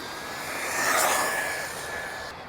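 An overpowered RC car passes at full throttle, its high whining motor rising and fading in a single fast pass, loud and steady at close range.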